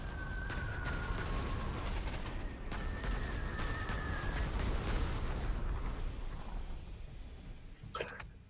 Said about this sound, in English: I think I will start by bombing them despite the anti-aircraft gun there